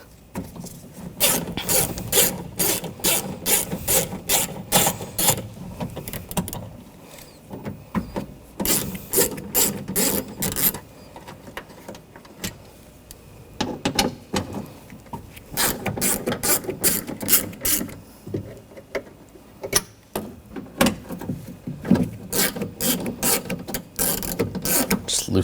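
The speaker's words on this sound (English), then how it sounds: "Use a 10mm socket." Ratchet wrench fitted with a 10mm socket loosening bolts on the rear window regulator of a 2014-2020 Nissan Rogue, giving long runs of rapid, close clicking in repeated bursts with short pauses between strokes, and no talk.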